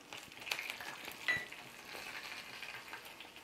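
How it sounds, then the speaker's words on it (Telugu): Tempering spices such as cumin, mustard seeds and garlic sizzle in hot oil for a vegetable sambar, a soft, steady frying hiss with faint pops, quiet and without talk. "ఆయిల్ వేడైంది, ఇప్పుడు పోపు దినుసులు వేసుకుందాము"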